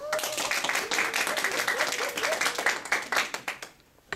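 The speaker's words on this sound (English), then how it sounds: "Let's give them a round of applause." An audience gives a round of applause, dense close clapping with a voice over it at first, thinning into a few last claps before fading out.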